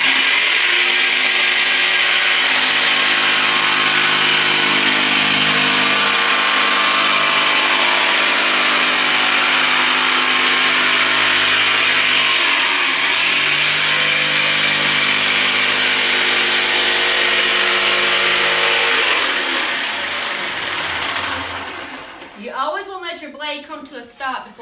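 Jigsaw cutting through a wooden mantel sign, a loud, close, continuous buzzing whine that holds steady for about twenty seconds, then winds down and stops, followed by brief handling noise.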